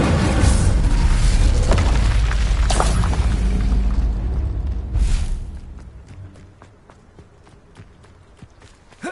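Spell explosions from the Hogwarts Legacy game, played on PS5, make a dense, rumbling barrage of booms for about five seconds. Then they thin out into scattered sharp clicks and faint impacts.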